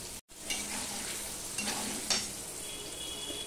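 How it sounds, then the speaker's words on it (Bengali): Paneer cubes fry lightly in a pan, a soft steady sizzle running throughout with a few scraping stirs and turns, close and moderately loud after a brief dropout near the start. "পনিরগুলো আমি বেশি কড়া করে ভাজবো না, ঠিক এপিট ওপিট করে হালকা করে আমি ভেজে নিলাম।"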